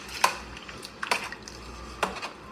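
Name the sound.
stirring seafood gumbo in a pot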